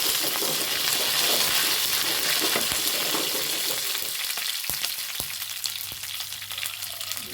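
Dried red chillies and curry leaves fry in hot coconut oil with a loud, continuous sizzle, a few sharp clicks, and a slight fade toward the end.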